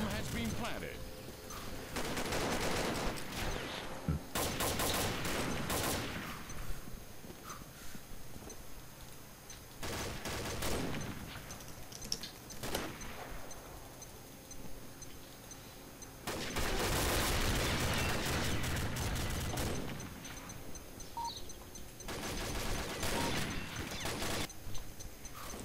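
Combat Arms gunfire during a bombing-run match comes in several sharp automatic bursts separated by quieter gaps, loud and close, with a player talking between the volleys.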